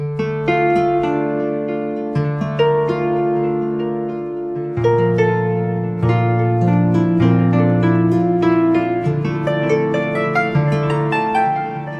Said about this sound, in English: So you can hear a delay.